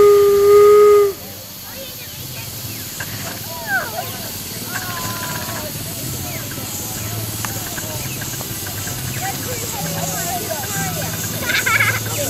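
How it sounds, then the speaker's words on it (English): Steam locomotive whistle gives a short loud blast at the start, then the engine hisses and chuffs softly while people talk nearby. "Blow the whistle."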